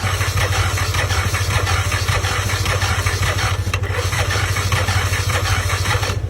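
A motorcycle that conked out after being ridden through floodwater runs rough and loud, a steady low engine drone throughout with no speech.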